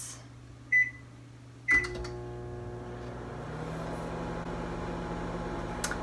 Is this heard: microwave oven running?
yes